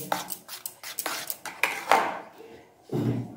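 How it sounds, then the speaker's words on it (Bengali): A utensil strikes a bowl again and again as egg mixture with grated cauliflower is whisked, giving quick clinking taps in an uneven rhythm, close and fairly clear, with a louder scrape near the end. "এবার খুব ভালো করে এটাকে ফেটিয়ে নিচ্ছি।"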